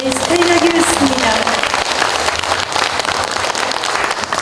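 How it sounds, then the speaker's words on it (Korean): An audience at a small outdoor concert applauds a jazz trio after a song, dense sustained clapping close by, with a brief tonal note from an instrument at the start. "여러분 다시 한번 세 분에게 큰 박수 부탁드리겠습니다"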